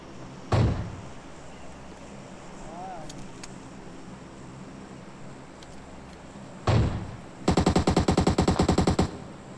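Video game gunfire: a couple of heavy single shots, then a fast rapid burst of automatic fire near the end, loud and close over a low background hum.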